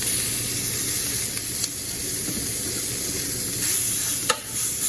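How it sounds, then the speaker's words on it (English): Vegetable pieces for a beef soup fry in a pan over medium to high heat, giving a steady close sizzle and hiss with a few soft stirring scrapes. "We're going to fry these at medium to high heat."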